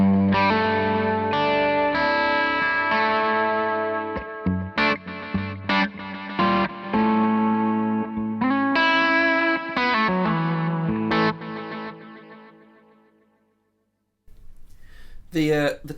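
A guitar played through a drum echo setting on an effects pedal, modelled on a Vincent Echo Rec, rings out with distorted chords and repeating echoes that trail off into silence before a brief final strum.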